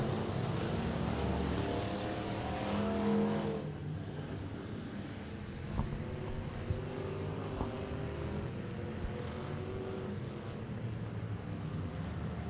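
Factory stock race cars at Tulsa Speedway, a loud engine roar with rising and falling harmonic whine from a passing pack, easing to a steadier drone with occasional sharp knocks.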